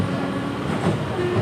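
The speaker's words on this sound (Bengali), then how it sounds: "দমদম জংশনে ঢুকছে এখন ট্রেন।" A local train pulls into Dum Dum Junction station in a continuous low rumble of rolling carriages, steady and close, with faint squeals over the running noise.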